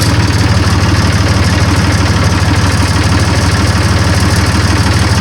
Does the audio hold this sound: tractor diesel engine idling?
yes